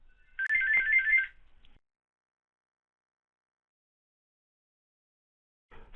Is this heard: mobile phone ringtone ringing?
yes